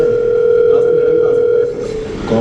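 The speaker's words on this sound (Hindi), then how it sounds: "सर आपका फोन आ रहा है" A phone rings in a steady electronic tone, moderately loud and alone, holding one sustained pitch for about two seconds before briefly dipping.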